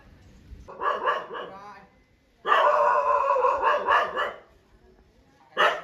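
A dog barks in two close bursts of repeated loud barks separated by a short pause, with another bark starting at the end.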